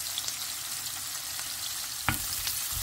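Peeled garlic and sliced onion frying in olive oil, a steady close hiss of sizzling with a brief clatter of stirring partway through, no voices.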